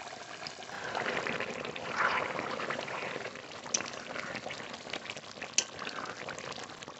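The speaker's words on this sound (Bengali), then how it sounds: "আর একটু ঢেকে দিয়ে ভালো করে সিদ্ধ করে নেব মাংস।" Meat simmers in a covered pot with spinach for a green meat curry, a steady close bubbling and hissing boil with a few small pops and clicks throughout.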